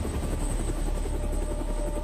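A helicopter flies with a steady, loud, droning rotor and engine roar that fills the whole span, with no voices.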